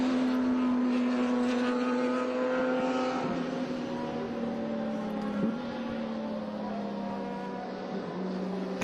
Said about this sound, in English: Okay, the pace car. I'm listening to the pace car.